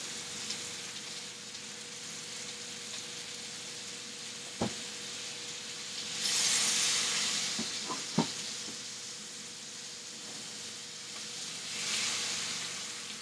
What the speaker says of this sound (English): I'm going to cut a little butter and throw it in there